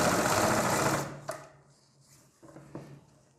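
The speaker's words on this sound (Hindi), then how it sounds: "तो यहाँ से हम स्टार्ट करते हैं सिलाई लगाना" A sewing machine stitches the front collar neck of a garment in one steady close run that stops abruptly, followed by a few soft handling clicks and taps.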